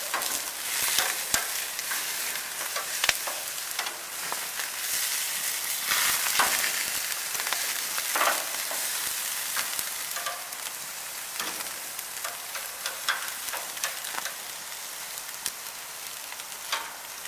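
Large steaks sizzle on a grill beside squash, a loud continuous crackling hiss with scattered pops and no talking.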